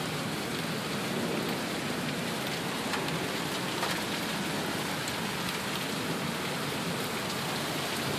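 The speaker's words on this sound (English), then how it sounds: "If I go anywhere near outside this door, I'm gonna get pilfered with hail." A heavy rain downpour mixed with hail pounds down in Sioux Falls, a dense, steady roar of water hitting surfaces that stays loud and even throughout, with no voices.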